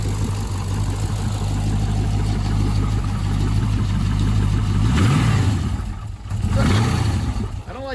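Junkyard aluminum L33 5.3 V8 on an engine stand, running on a $99 eBay wiring harness: a loud, steady close-up engine drone that swells in two quick revs near the end, the second dropping away as the engine stalls.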